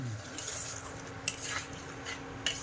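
Spice masala frying in oil in a kadai with a broken handle, stirred with a utensil that scrapes and clinks faintly against the metal over a soft steady sizzle, with two sharper clicks standing out.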